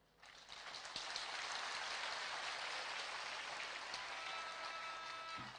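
Sustained applause from a church congregation welcoming guests at a joint church prayer gathering in Kakamego, a steady dense clapping rising quickly and holding loud throughout.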